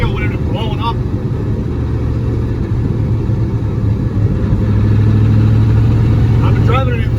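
A car engine with a knocking fault and a leaking exhaust runs steadily at a loud, rough, low rumble. The vehicle is being driven in third gear, and someone talks over the engine noise.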